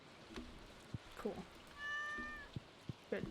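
A farm cat meows in the video game Stardew Valley, one drawn-out mew rising briefly above quiet game sounds and faint background murmur.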